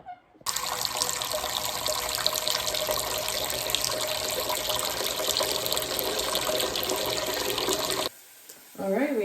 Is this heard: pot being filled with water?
yes